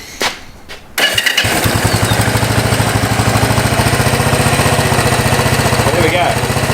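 A Yamaha SR250 single-cylinder motorcycle cranks and fires, then settles into a loud, close, steady thumping idle that runs slightly high.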